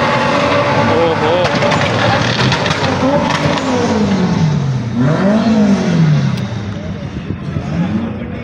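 At a drag car show in Islamabad, a loud race car engine revs and climbs, drops sharply at a gear shift, then climbs again, with constant crowd noise and voices talking over it.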